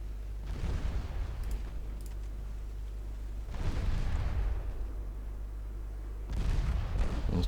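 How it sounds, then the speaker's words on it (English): Three-inch naval guns firing in the warship game Ultimate Admiral: Dreadnoughts, heard as three separate booming volleys spaced a few seconds apart over a steady low engine hum, with no talking. "Three-inch guns joining in."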